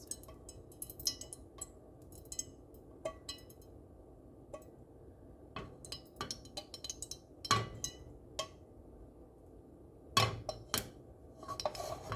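Metal spoon clinking and scraping against a pot of beef chuck stew on a stovetop set to low, with sparse, irregular taps and clanks, a few sharper knocks standing out over a quiet kitchen background.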